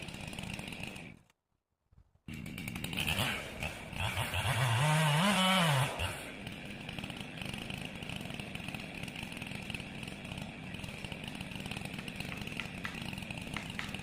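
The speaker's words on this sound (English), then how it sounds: "As I'm halfway through the felling cut," A chainsaw making a felling cut in a dead tree revs to a loud, straining whine that rises and falls, then drops back to a steady idle after a brief pause near the start.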